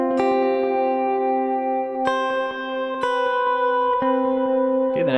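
Electric lead guitar plays a sustained melodic riff, with clear picked notes changing roughly every second, ringing with reverb and echo, alone without talk.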